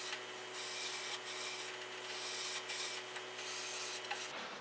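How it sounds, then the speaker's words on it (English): A wood finish on an Arts and Crafts bookcase being rubbed out with triple-aught steel wool, a soft steady scratchy rasp with faint back-and-forth surges, close and quiet, no talk. "after you're done rubbing out the piece with triple-aught steel wool"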